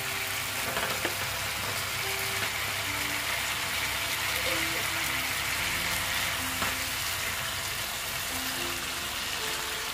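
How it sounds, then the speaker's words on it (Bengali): Eggplant pieces frying in hot oil for a Bengali doi begun (yogurt eggplant) dish, a steady close sizzle running throughout with occasional stirring clinks. "দেখো এবার আমি বেগুনগুলো সব দিয়ে দিচ্ছি।"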